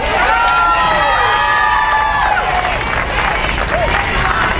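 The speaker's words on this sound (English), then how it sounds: "She deserves a round of applause." At the launch event of a New Abortion Caravan campaign, a close, loud crowd greets a speaker with sustained clapping mixed with cheers and whoops that ease off toward the end.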